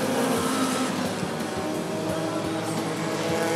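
A pack of stock cars in a Bandit feature at Rockford Speedway roars off at the green flag, a dense, loud, continuous engine rumble with no break.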